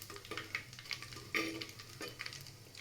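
Cumin seeds frying in oil while being stirred in a pan give a faint sizzle. Soft, irregular scraping strokes of the spoon sound quietly and close, with no talking.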